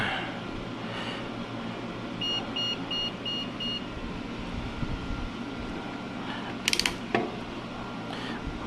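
A handheld multimeter on a workbench chirps a short string of five or six even electronic beeps, faint and thin over a low steady room hum, followed later by a couple of brief clicks.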